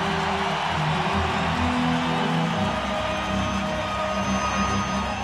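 A hockey arena crowd cheering during a game, a dense, sustained roar filling the space without a break and no clear speech on top.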